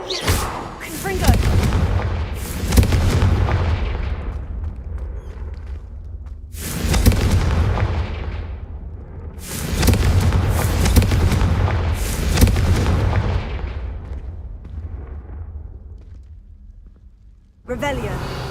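Confringo fire spells in Hogwarts Legacy go off as several booming magical blasts, each a heavy low burst that rolls and fades over a few seconds, with a final sharp hit at the end.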